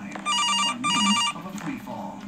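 A telephone rings twice in the CASE Animatronics video game, with loud electronic bursts separated by a short gap, followed by low rumbling game sounds.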